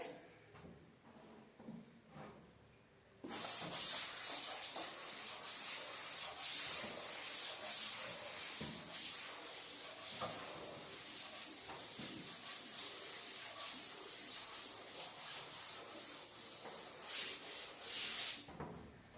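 A board in a classroom is rubbed clean with an eraser, a sustained close hissing swish that starts abruptly after a short quiet lead-in and runs on steadily with uneven strokes for over fifteen seconds.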